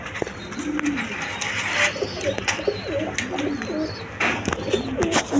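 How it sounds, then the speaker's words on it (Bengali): Pairs of Giribaz high-flying pigeons, males and females, coo in repeated low rolling calls close by, with short clatters and soft chirps mixed in. "এক পেয়ার হাই ফিলিং গিরিবাস কবুতর আছে আমার কাছে কয়েক পেয়ার গিরিবাস কবুতর আছে"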